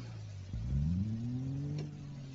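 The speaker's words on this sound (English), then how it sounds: "Just rev it up and then just dump the clutch." A simulated car engine in BeamNG.drive idles, then revs up sharply and climbs in pitch as the clutch is dumped, a loud steady engine tone close up with no talk.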